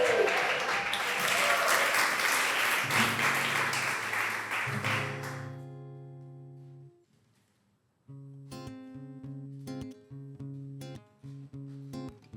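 Enthusiastic audience applause introducing a singer at a live show swells for about five seconds, then fades into near silence before tonal musical notes begin.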